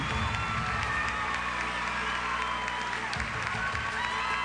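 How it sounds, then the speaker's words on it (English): A Miss USA 1999 pageant audience claps and cheers for the Ohio finalist, a dense, continuous wash of applause and shouts from a large crowd. "put your hands together for Ohio"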